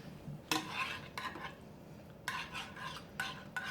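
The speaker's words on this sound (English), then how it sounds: "Now we're going to stir it together." Milk, mushrooms, flour and basil are stirred together in a bowl for microwave creamy pasta, a spoon scraping and swishing in short, close, irregular strokes separated by brief pauses.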